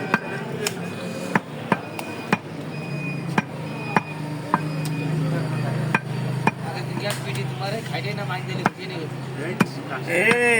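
Beef being hacked by hand at a meat market lands as sharp, irregular chopping thuds, about a dozen blows, close up under ongoing talk and busy background noise.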